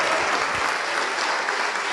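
A church congregation applauds throughout, dense steady clapping from a crowd filling the space at even loudness, with no one speaking over it.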